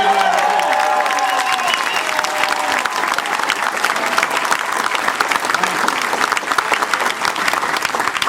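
Loud, sustained applause and cheering from a large town hall crowd in Warren, Michigan, greeting Congressman David Bonior, dense and continuous throughout.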